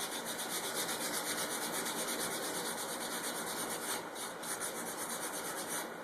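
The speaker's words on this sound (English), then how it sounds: "you want to sand pretty much perpendicular to the way that you've cut" Wood edges being sanded by hand with sandpaper, cut perpendicular to the saw cut: a steady, soft scratchy rubbing that continues evenly, close up and quiet, with no speech.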